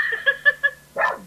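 A dog gives a quick run of short, light yips and barks, ending with one slightly longer bark, close by in an indoor room.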